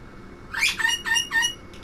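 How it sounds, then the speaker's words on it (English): A bird in the Titanic VR video game lets out a brief burst of three or four sharp, high squawking calls, close and fairly loud, with nothing else around it. "that bird's going nuts"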